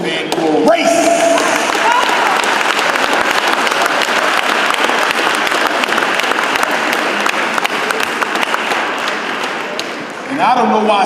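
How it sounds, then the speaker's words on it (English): An audience in Newark applauds loudly and steadily at a speech, a dense wash of clapping that lasts for about ten seconds before it tapers off. "I don't know why some of y'all clapping"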